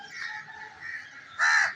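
Crows caw over a city in Lahore, with two drawn-out, moderately loud calls, the second one harsher and louder, and no one talking.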